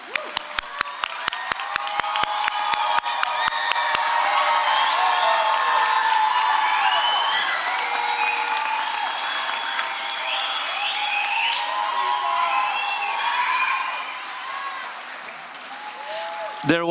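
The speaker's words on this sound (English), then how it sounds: "Another round of applause for our graduates." An audience at a Harmony School of Innovation Houston class of 2025 graduation ceremony applauds the graduates, with sustained clapping from a large crowd in a hall that swells, holds steady and then tapers near the end.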